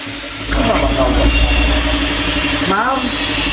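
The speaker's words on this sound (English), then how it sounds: "So here's the generator." Generator powered by an Isuzu engine at a house build in the Philippines, idling with a steady low mechanical hum close by while a person talks over it.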